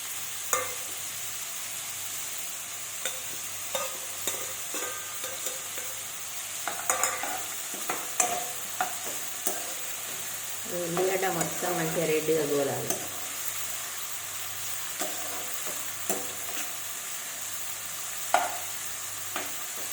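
Onions frying in oil with whole spices in a steady sizzle, with regular spoon scrapes and clinks as the pan is stirred. A brief burst of voice comes partway through.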